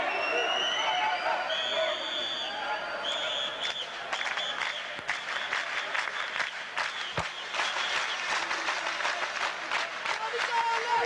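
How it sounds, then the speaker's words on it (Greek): Basketball crowd at an Ionikos home game against PAOK in 1984 claps steadily to encourage its team before the second half, a dense wash of applause throughout with scattered louder bursts. "Να λοιπόν ο κόσμος του Ιωνικού με χειροκροτήματα προσπαθεί να ενθαρρύνει τους παίκτες της ομάδας του για το δεύτερο ημίχρονο."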